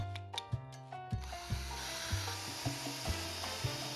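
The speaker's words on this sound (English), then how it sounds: "I sanded down the corners to make them round." A wooden sword handle is sanded by hand, with short repeated rubbing strokes close up in a quiet space.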